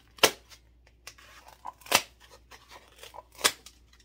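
Scissors snip small pieces of material for fall DIY home decor, three crisp, sharp cuts spaced over a few seconds, with faint handling rustles between them and no talking.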